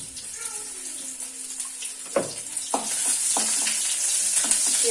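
Onions fry in hot oil with a bright, busy sizzle, punctuated by a few sharp stirring scrapes and splashes that build to a louder, fuller hiss toward the end.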